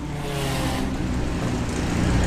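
A Mazda MX-5 drag racing car accelerating down the strip at a Bug Jam drag racing event, a loud continuous engine roar that builds slightly as it pulls away.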